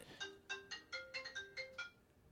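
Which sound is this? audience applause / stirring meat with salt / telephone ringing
telephone ringing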